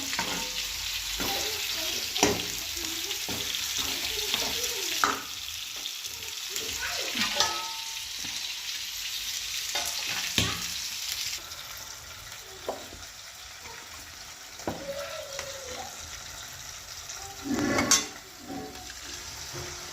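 Fish sautés with masala in a pan, giving a continuous sizzle broken by repeated scraping and stirring strokes of a utensil, with a louder clatter near the end.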